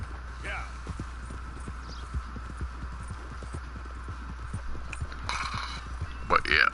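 Horse hooves clip-clopping at a steady walking rhythm in a video game, soft and close, with a constant low hum underneath and a brief brighter burst near the end.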